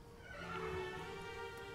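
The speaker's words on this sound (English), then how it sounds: "let me introduce you to your first horse, then" Pony neighing, a faint, drawn-out whinny with a wavering tone lasting under two seconds, heard alone against quiet background noise.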